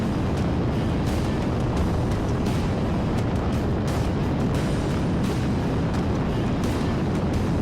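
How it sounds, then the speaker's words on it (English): H gas land speed racing roadster with a four-cylinder Honda engine on a dry lakebed course, a loud, constant, wind-buffeted engine roar that fills the whole stretch without pause. "That is an H gas roadster sporting a 4-cylinder Honda engine."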